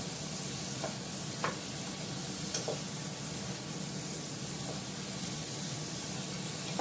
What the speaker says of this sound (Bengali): এখন ভালো করে কষিয়ে নিচ্ছি, জল তেল ছেড়ে দিয়েছে।